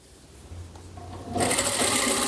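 A sewing machine stitching a children's long-sleeve pajama, a steady close mechanical whir that starts quietly, then speeds up into a loud, fast, continuous buzz.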